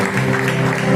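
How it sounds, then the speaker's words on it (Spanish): A church congregation applauds together during a Spanish-language worship service, a steady dense wash of clapping with horizontal tonal lines suggesting music or a held tone underneath. "Dale ese aplauso que se lo merece el Señor."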